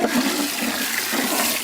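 Water is poured into a pot while mutton biryani cooks outdoors, a loud, close, rushing gush that runs unbroken for a short burst, with no voices.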